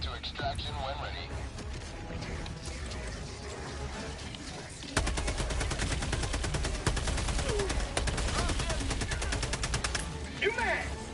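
Rapid automatic gunfire from the video game Helldivers 2 swells into dense, continuous bursts at close range with a steady crackling rhythm, and voices talk beneath the shooting.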